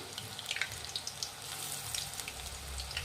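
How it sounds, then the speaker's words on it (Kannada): Onion rings deep frying in hot oil until crispy, giving a steady close hiss and bubbling sizzle with small crackling pops, with no voices. "ಇದು ಕ್ರಿಸ್ಪಿ ಆಗೋವರೆಗೂ ಡೀಪ್ ಫ್ರೈ ಮಾಡಬೇಕಾಗುತ್ತೆ ಎಣ್ಣೆಯಲ್ಲಿ"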